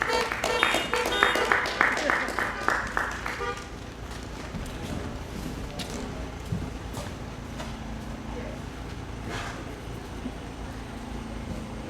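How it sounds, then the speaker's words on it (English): Applause at a community Disability Awareness Day event, with a burst of clapping in the first few seconds that fades into steady crowd murmur and room noise. "will you give a round of applause for Emma and Melanie to come forward"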